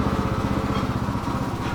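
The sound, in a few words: lawnmower engine running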